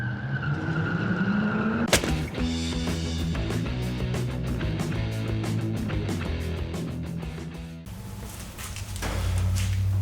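A car engine fitted with a rebuilt Holley 1850 carburetor cranks, catches and runs roughly, its loud close rumble broken by sharp rattling and clattering bursts, with no talking.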